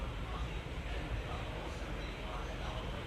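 Mustard seeds splutter in hot oil in a heated kadhai while dal tadka is being made, giving a steady, dense crackling hiss that continues throughout.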